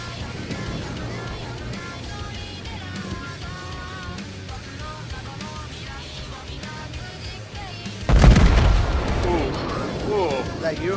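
Battleship USS New Mexico opens fire in World of Warships: after several seconds of steady engine and ambient game noise, a loud, booming gun salvo bursts out near the end and rumbles on. Voices talk over the game sounds.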